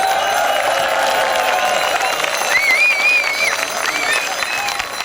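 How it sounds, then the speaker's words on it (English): A large outdoor crowd at the Pedal on Parliament cycling rally in Scotland cheers and applauds continuously, a dense, loud wash of clapping and voices with a few whistles rising above it. "Give a huge cheer to the top team."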